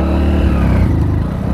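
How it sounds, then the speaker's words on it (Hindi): Motorcycle engine labouring steadily while climbing an uphill road, close range, a low rumbling drone with clattering mechanical texture throughout, no voices. "देखिएगा बाइक का आवाज़ चेंज हो गया है"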